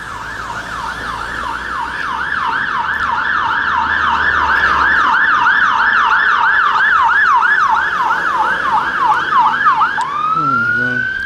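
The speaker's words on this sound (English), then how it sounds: "There's a bloody ambulance coming on. You can't hear a thing until this is gone." An ambulance siren wails loud and near in a fast, regular yelp cycle for about ten seconds, then drops into a rising tone as it passes and fades.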